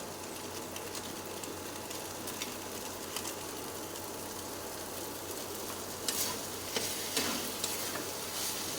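Ash gourd curry (chal kumro ghonto) stirred in a pan after ghee and garam masala go in: a continuous soft sizzle and bubbling with spatula scrapes, getting louder with sharper clatters near the end.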